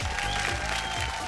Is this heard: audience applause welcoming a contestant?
yes